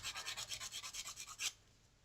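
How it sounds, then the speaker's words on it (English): 800-grit sandpaper rubs against the sides of a wire-wrapped pendant in quick, even back-and-forth strokes, about a dozen soft, close rasps that stop abruptly, faint and alone. "Sand down those sides and try to make them even."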